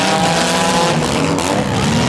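Stock mini cars at a demolition derby heat roar and grind together in a loud, continuous mass of revving engines and metallic rumble, close and sustained with no clear pauses.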